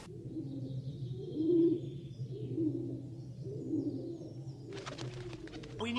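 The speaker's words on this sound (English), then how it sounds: "Only birds. Lots of birds." Pigeons coo in a low, repeated murmur on the top level of a building, steady and fairly close, with a brief burst of other noise near the end and no talk.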